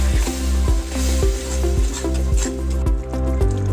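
Tomato puree hitting hot oil in a pan of mushroom masala for kadai mushroom, with a steady loud close sizzle and regular rhythmic stirring scrapes throughout.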